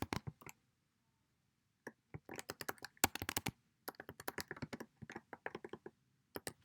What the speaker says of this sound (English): So I'm going to type in the title of this page